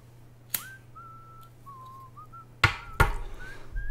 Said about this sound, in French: Cet homme siffle de façon splendide.